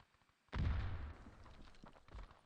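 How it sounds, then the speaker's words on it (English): In a competitive video game match, frag grenades go off with a sudden heavy blast followed by rumbling debris that slowly fades, then a second, smaller burst near the end. "Some frags are going off on the other side of the map"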